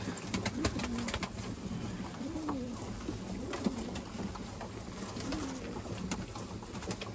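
Erzurum white pigeons coo and murmur softly amid a steady background hum, with scattered pecking and fluttering sounds as birds crowd together eating and drinking.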